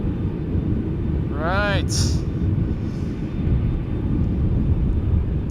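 Airbus A330-300 airliner at Schiphol Airport, a steady broadband jet roar throughout with a brief high tone sweeping past midway, while someone speaks a single word.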